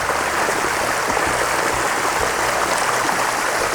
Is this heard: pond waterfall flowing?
yes